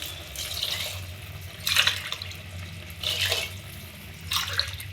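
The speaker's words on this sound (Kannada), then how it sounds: "ಒಂದೂವರೆ ಲೋಟ ಅಕ್ಕಿಗೆ ಮೂರು ಲೋಟ ನೀರನ್ನು ಹಾಕ್ತೇನೆ" Water pours from a cup onto rice for vegetable pulao in three separate splashing bursts, close and moderately loud, with quiet pauses between pours.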